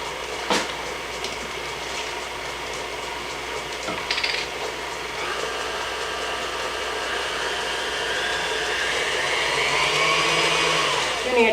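An electric mixer whirs steadily through apple cider cookie dough, its motor whine rising slightly toward the end. A few clicks and bumps sound near the start, and nobody speaks.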